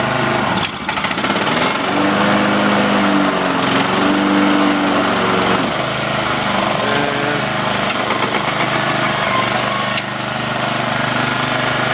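A self-propelled lawn mower, long unused and with a slipping clutch, runs with its blades engaged. Its engine drones loud and steady up close for the whole stretch, with no voices.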